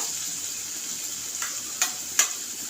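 Garlic and onion paste fries quietly in oil, giving a faint, even sizzle and a couple of brief scraping stirs near the end.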